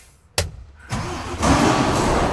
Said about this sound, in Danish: hver gang jeg drejer nøglen og tænder lastbilen.